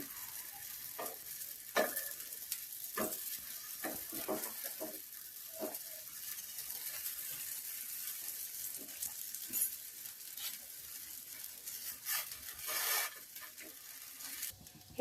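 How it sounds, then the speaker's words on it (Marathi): Potato patties pan-frying crisp on both sides for ragda pattice, a constant soft sizzle with repeated scraping and turning sounds from a spatula, close and unhurried, no talking. "दोन्ही साईडनं छान असं खरपूस भाजून घेऊया."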